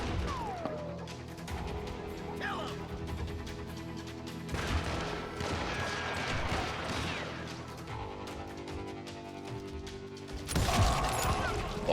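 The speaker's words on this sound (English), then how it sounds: "shotgun." Shotgun fire in the Western video game Call of Juarez Gunslinger, repeated sharp blasts and crashes amid busy gunfight noise, with a loud final burst near the end.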